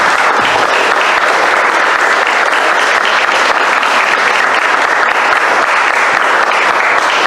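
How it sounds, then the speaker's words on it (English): Audience applause for the candidates at a Medlock Bridge Post 4 candidate forum, a dense, steady wash of many hands clapping that fills the room, loud and continuous with no talking over it. "Can we all give them a round of applause for tonight?"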